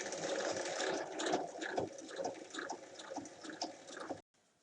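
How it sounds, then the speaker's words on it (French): Sewing machine stitching along the bottom of a pocket on a fabric bag, a steady close whirring run of rapid stitches that stops abruptly near the end. "je commence à piquer juste sous la poche"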